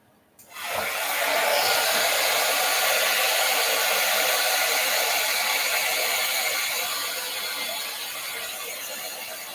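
A hair dryer switched on to dry artwork, kicking in with a short click and then blowing a steady, loud whooshing whir that eases off slightly toward the end, with no talking.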